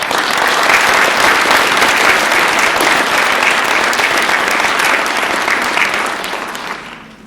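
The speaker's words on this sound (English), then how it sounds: "Please give them a big round of applause" An evening audience gives a big round of applause for transplant centers, loud, dense clapping from a large crowd that holds steady before tapering off near the end.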